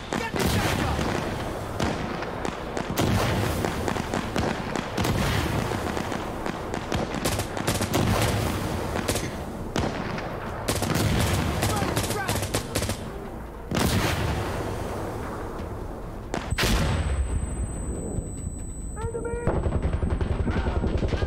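Gunshots in Insurgency Sandstorm: dense, loud rapid-fire bursts and single cracks through most of the stretch, with someone talking over the shooting and a brief lull near the end.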